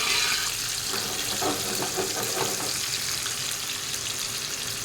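Catfish and tilapia frying in hot oil, with a loud, close, continuous sizzle and crackle running steadily throughout, with no talking.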